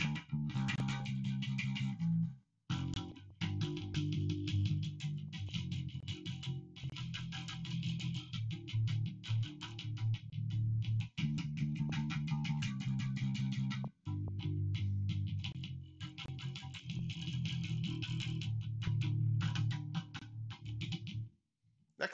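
A bass guitar plays a repeating low, thumping groove with brief pauses, fairly quiet, alongside some higher percussive clicks.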